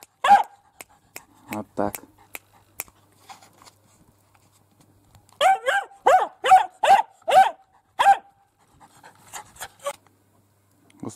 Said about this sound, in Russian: Моя лаялась, блин. Всех, кто проходит мимо, всех лает.